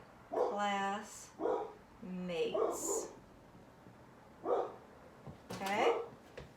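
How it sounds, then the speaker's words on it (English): A dog barks repeatedly in short yipping bursts indoors, close and fairly loud, with some whimpering between barks and a voice speaking over part of it. "Ron, you want to get that dog?"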